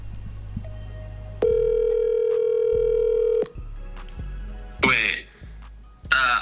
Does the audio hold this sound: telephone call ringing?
yes